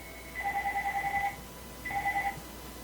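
A telephone rings with two electronic trills, one longer burst then a shorter one after a brief pause, moderately loud over faint background hiss.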